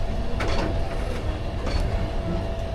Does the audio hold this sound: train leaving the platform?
yes